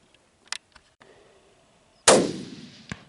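A single loud, sharp rifle shot cracks out nearby during an antelope hunt on open ground, its echo trailing off, with a few faint clicks and thumps before it.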